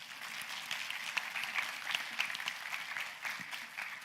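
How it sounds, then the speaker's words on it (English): Audience at a scientific symposium on gene editing gives a steady round of applause, a dense even patter of many hands clapping at moderate level throughout, with no talking. "So please give a round of applause."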